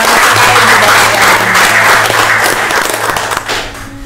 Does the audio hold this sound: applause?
yes